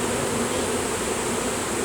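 Bees swarm around a massive beehive being removed, making a dense, continuous buzz that fills the short stretch at an even level with no voices.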